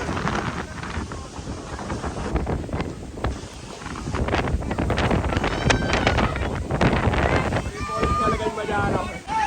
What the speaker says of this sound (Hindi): देखो बिल्कुल तूफान चल रहा है